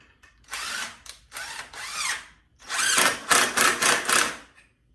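An impact driver running a hanger bolt into a maple and rosewood guitar neck, in several short whirring bursts with brief pauses, then a longer run of rapid pulsing hammering, close and loud.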